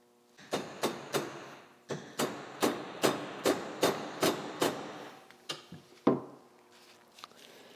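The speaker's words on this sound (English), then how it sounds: "Sometimes it takes a couple wraps of the hammer to get that cup to seat the snap ring." A hammer taps metal sharply about a dozen times in a steady rhythm, pausing once, then a few final harder blows, seating a shifter cup and snap ring in a Subaru shifter.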